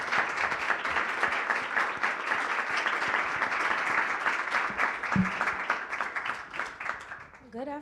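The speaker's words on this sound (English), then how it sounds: "Please join me in giving a round of applause for our esteemed panelists." Sustained audience applause at a panel session of a book festival, steady dense clapping filling the room for several seconds, tapering slightly near the end.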